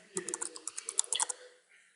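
Quick bursts of keystrokes on a computer keyboard while entering an MS-DOS md command, about a dozen close, crisp clicks in an uneven rhythm, then quiet.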